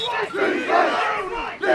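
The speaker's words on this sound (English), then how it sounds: "Loud crowd here today for the NothStars Wolves" A loud football crowd roars and chants for the NothStars Wolves at a championship game, a dense sustained wall of voices rising and falling with a brief dip near the end.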